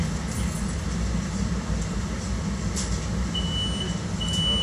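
Amtrak Surfliner train at Fullerton station heard from on board, a steady low rumble and hum running throughout with a faint high tone near the end, no talking.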